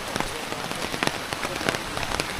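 Heavy monsoon rain in Konkan pours steadily onto surfaces, a dense continuous patter with scattered sharper drop hits, close and even throughout, with no talking.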